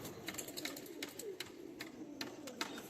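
Pigeons on a rooftop give soft, low cooing calls, fairly quiet and steady over a faint background hum, with a few brighter chirps and flutters scattered through.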